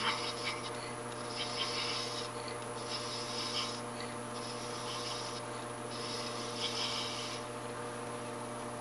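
A thread chasing tool lightly cutting a chamfer in a wax practice piece, giving a soft repeated rasping scrape in short strokes, fairly close and quiet against a steady hum.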